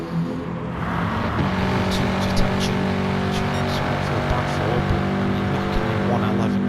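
Audi race cars in GT Sport drone and whine in a steady, sustained engine roar at Blue Moon Bay, with pitch shifting slightly as they jostle, while a commentator talks over the top.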